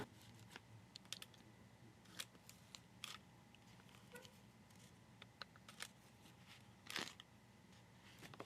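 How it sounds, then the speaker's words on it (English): Small scissors snipping holes in paper, heard as quiet, irregular clicks and short crisp cuts scattered across a faint, hushed background. "let's just cut out the holes for her"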